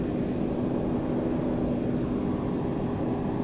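Steady, loud jet engine drone of a Boeing 767-300 taxiing slowly toward a parking area in a flight simulator, an even whine over a low rumble with no talk.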